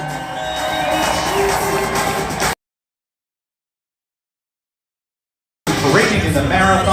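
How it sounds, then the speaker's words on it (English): A large outdoor crowd cheers and whoops at the 2024 NYC Marathon opening ceremony; the cheering runs in two loud stretches separated by a few seconds of silence. "Now let's give our Rising New York Roadrunners a big cheer!"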